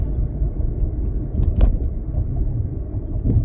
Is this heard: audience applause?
no